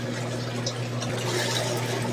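Water trickles and flows steadily from the opened valve of a bag holding tubifex worms, a continuous close liquid wash over a low steady hum, with no talking.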